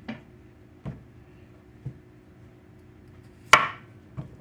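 A knife chopping potatoes into chunks on a board: four or five sparse, sharp knocks spaced about a second apart, the fourth loudest, close by in a quiet room.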